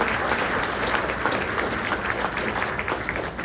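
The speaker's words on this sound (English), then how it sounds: "Want to give them a round of applause for their volunteer work and everything they do." Steady applause from an audience at a graduation ceremony, honoring volunteer board members, sustained and even throughout without pause.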